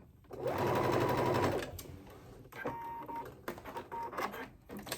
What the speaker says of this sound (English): just gently stretching the fabric toward me as the machine gently pulls the fabric through the machine